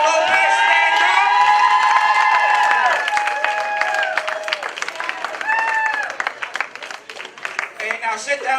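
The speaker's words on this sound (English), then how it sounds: "give him a big round of applause" A comedy show crowd in Owasso breaks into loud applause with whoops and cheering, a dense roar that thins to scattered clapping and shouts.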